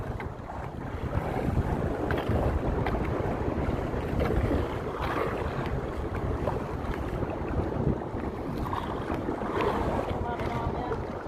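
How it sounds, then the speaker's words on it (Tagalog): Strong wind buffets a microphone on a jigging fishing boat, a constant loud roar with water sounds underneath and no pauses throughout. "Humangin naman nga ng malakas. Eh. Lumakas ng hangin"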